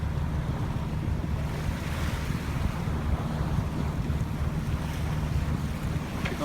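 A cruising sailboat motoring at sea under engine power, with a steady low engine drone mixed with rushing wind and wave wash, loud and continuous, with no talk.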